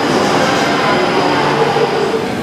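A British Rail Class 170 diesel multiple unit train rumbles steadily and loudly close by, a dense, continuous mechanical roar with no voices.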